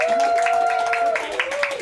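An audience claps and cheers at an animal show at Zoo Atlanta, with a quick patter of hands and raised voices blending into a lively, continuous crowd noise.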